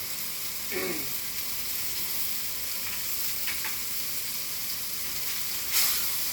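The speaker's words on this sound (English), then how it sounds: "cook it real hot, real fast, sear it down" Meat sears in a smokehouse kitchen, cooked very hot and fast on a hot surface, giving a steady close sizzle throughout with a few brief louder pops and stirs, and no talking.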